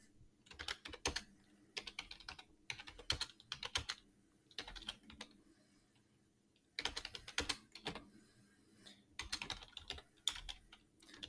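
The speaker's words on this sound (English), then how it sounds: "as I start typing words, start typing those initial letters" Rapid keystrokes clatter on a computer keyboard in irregular bursts, with short pauses between runs of typing, close and fairly quiet.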